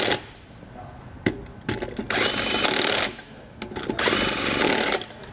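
A power tool tightens lug nuts on a trailer wheel in two sustained, loud whirring bursts, each about a second long, broken up by short clicks and clunks close by.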